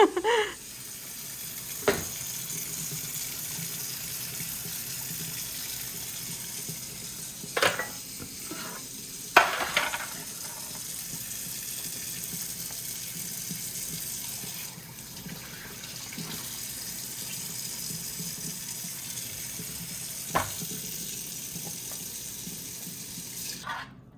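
A kitchen tap runs steadily while a rack of lamb is rinsed under it, a soft continuous water hiss punctuated by a few sharp clinks and clatters of a pan and utensils.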